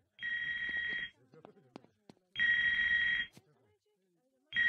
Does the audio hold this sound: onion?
no